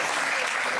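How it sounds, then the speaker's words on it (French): A television talk show studio audience breaks into brief, dense applause, a continuous burst of many hands clapping at once. "Applaudissements pour lui."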